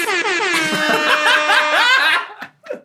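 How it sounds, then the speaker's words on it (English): A loud, wavering air horn blast lasting a couple of seconds, followed by brief laughter and short noises. "I want to hear you say OG Gleeks and hit the air horn"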